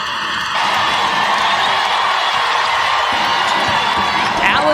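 Arena crowd at a WNBA basketball game between the Indiana Fever and Chicago Sky, cheering and whooping in a loud, sustained roar with scattered yells, steady throughout.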